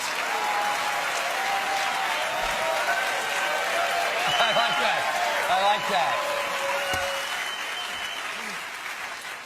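A comedy audience breaks into sustained applause, a dense wash of clapping that swells and slowly fades while a performer's voice talks over it.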